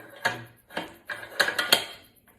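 Magazine of a Noreen ULR-X .50 BMG rifle sliding in and locking, heard as a handful of close metallic clicks and clacks: a couple of spaced knocks, then a quick cluster ending in a sharp latch snap.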